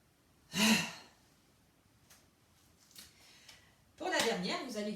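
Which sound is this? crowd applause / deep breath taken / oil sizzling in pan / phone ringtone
deep breath taken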